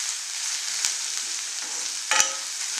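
Goat blood fries with coconut in an iron pan, a steady bright sizzle broken by two sharp clicks of a spoon stirring, close and continuous with no talk.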